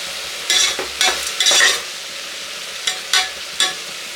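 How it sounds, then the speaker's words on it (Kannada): Vegetables frying in oil for methi pulao, a quiet sizzle bed punctuated by several sharp close stirring scrapes in two short bursts, no speech. "ಒಂದು 2 ನಿಮಿಷ ಇದನ್ನ ಎಣ್ಣೆನಲ್ಲೇ ಫ್ರೈ ಆಗೋದಕ್ಕೆ ಬಿಡೋಣ"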